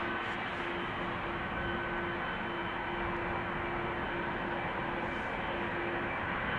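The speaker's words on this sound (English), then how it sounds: "Now, another KLM 777-300." A KLM Boeing 777-300ER jet at Amsterdam Schiphol, departing runway 36L, gives a steady, broadband engine roar with a faint whine. It stays loud and unbroken throughout, with no talk.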